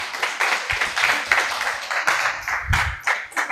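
A church congregation claps in praise of Jesus, uneven bursts of clapping with some louder individual claps and a low thump near the end, fairly close and busy.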